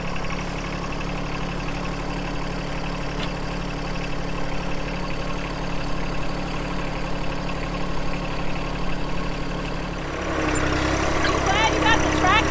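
A tractor engine idles steadily with a low, even rumble throughout, close by, and the tone shifts slightly near the end as the engine note changes.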